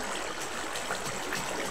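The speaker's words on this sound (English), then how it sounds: "The water may be louder than I am, or I may be louder than the water." Steady flowing water in Minecraft, a soft continuous rushing wash that stays even and fairly quiet throughout, with no voices over it.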